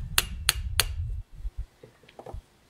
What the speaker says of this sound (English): that was kind of a big hammer for that job